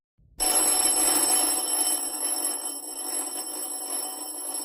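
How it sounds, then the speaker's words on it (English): An insistent doorbell rings at a house in Aberdeen, waking a man from bed; a loud, continuous electric bell ring starts abruptly after a brief quiet moment and keeps going without pause, with no talk. "a man is aroused from his bed by an insistent ringing at his doorbell."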